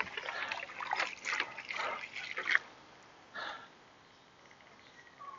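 Water poured onto a compressed coco coir block, a soft trickling and splashing in a few short bursts, fairly close and quiet, fading into near silence toward the end.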